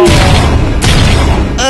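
Loud, close booming blasts erupt, a heavy explosion followed by a couple more sharp bursts, from a stink bomb going off.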